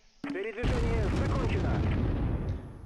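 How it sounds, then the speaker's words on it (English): Mortar fire in the video game Close Combat III: a sudden loud blast followed by a rolling rumble of explosions, with a voice briefly audible at the start. "They're mortars."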